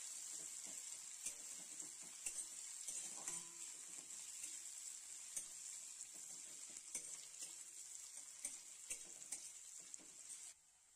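Chopped onion fries quietly in a pan for a chana dal with pumpkin, a faint continuous sizzle broken by regular small clicks and scrapes of a stirring utensil, then a sudden stop at the end.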